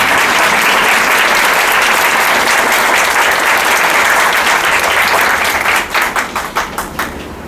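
Loud, dense applause from a conference audience welcoming a speaker, sustained throughout and breaking into separate fading claps near the end.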